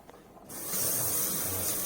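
Chicken cutlets sizzle in olive oil in a frying pan, a bright steady hiss that bursts in suddenly and holds at a constant, fairly loud level with faint crackles underneath.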